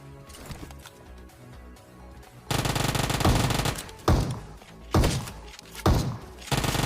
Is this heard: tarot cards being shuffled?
no